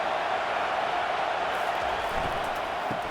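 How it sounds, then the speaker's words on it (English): A college football stadium crowd at a Kentucky versus Texas game roars on third down, a dense, steady wall of noise that holds at full strength for the whole stretch without letting up. "3rd down, and this crowd is tearing the lid off this place."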